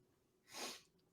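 A single short, sharp sneeze bursts out on a quiet background.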